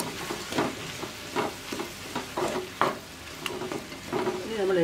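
Chopped tomatoes stirred and frying in a pan for a Kozhikode-style chicken biryani, with a steady sizzle and repeated scraping strokes of the spoon throughout, close and fairly loud, no talking.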